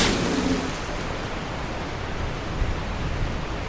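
A character in Dark Souls 2 splashing and wading through river water, heard as a continuous broadband rushing and sloshing that is loud at first and then holds steady.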